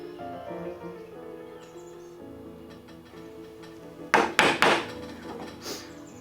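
Hand-chopping a mortice in a piece of wood with a chisel: a few sharp strikes in quick succession near the end, following a quieter stretch with faint background tones.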